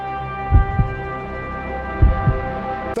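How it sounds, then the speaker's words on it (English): A heavy heartbeat thuds in two lub-dub pairs over a sustained tonal hum in a Superman movie trailer. The low beats are deep, close and resonant, with no voices. "Even the caption itself, Superman's heartbeat echoes, I thought was very cool."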